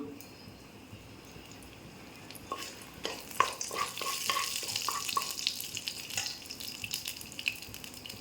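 Two bay leaves sizzle in hot oil in a pan for a fish-head and cabbage curry, a quiet hiss that swells into a denser, crackling fry with intermittent clinks, close by and without voices.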